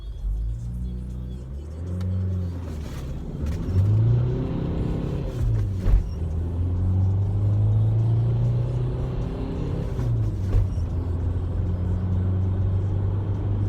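Car with 15-inch wheels accelerating hard uphill from a standstill from first gear, engine note rising through the gears with clear pitch climbs and drops at each shift, steady rumble close by, no talking.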